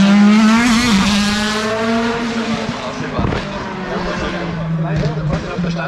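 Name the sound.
race car at Rechberg hillclimb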